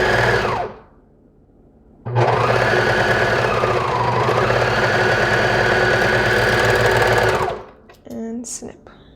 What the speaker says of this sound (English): I'm going to lift my presser foot and sew all the way down